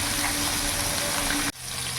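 Tap water runs steadily and loudly onto fish being washed at a sink, a continuous gushing hiss that cuts off abruptly near the end before a quieter running sound resumes.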